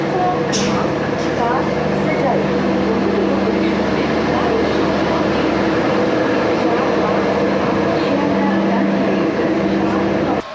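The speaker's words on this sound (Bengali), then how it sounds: "বন্ধুরা, ট্রেনে উঠে গেছি।" From inside a moving passenger train, a steady low rumble and hum of the carriages runs throughout, partly covered by people talking.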